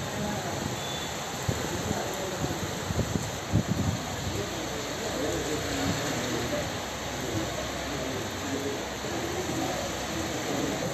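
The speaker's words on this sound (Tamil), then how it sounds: "3 மணி நேரத்திற்கு மேலாக கனமழை கொட்டி தீர்த்தது" Heavy rain pours down in Tamil Nadu as a dense, steady hiss of downpour that fills the whole stretch, loud and unbroken, with a few brief spatters near the start.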